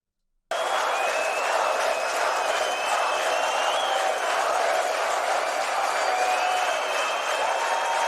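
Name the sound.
crowd applauding at the end of a song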